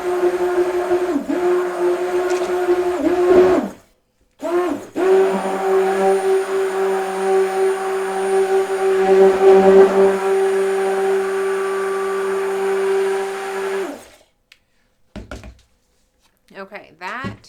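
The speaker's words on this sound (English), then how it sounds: "I have to stick blend this, and it's getting really thick on me." Stick blender whirring through a thick homemade vegan deodorant mixture; a loud, steady motor hum that briefly cuts out once, then runs on with slight strain before stopping.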